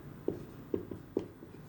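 A pen writes on paper up close, giving soft scratchy strokes with three light taps as it lands on the page. The sound is quiet and rhythmic.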